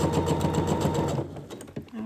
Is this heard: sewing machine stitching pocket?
yes